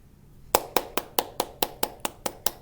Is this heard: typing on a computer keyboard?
no